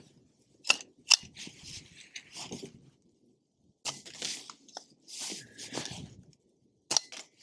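Rifle on a 22-inch precision chassis with an MDT SCS-Lite stock, giving a few sharp, short clicks and snaps of the action and striker, not a loud shot, spread across a quiet space.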